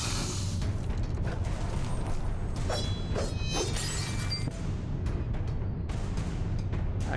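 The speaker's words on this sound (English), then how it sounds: "It's a machine gun. Shooting pepper grinds off at him." In the video game Alice: Madness Returns, a pepper grinder machine gun fires continuous rapid rattling, grinding shots. The sound is layered over steady low game rumble and crackling impacts, moderately loud, with no one speaking.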